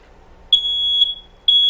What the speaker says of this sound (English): it's time to check our smoke detectors